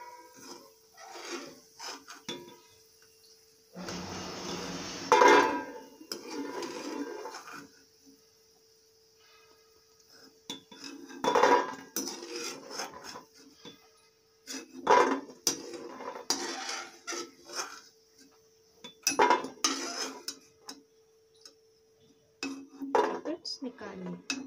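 Fried gulab jamun are lifted out of a frying pan with a metal utensil, bursts of clinks and scrapes against the pan separated by quiet pauses, with occasional talk between them.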